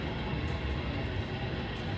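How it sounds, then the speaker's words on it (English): Steady rumbling, rushing noise of model trains passing on a model railroad layout, continuous and even throughout, with no voices. "The sound of the trains going by."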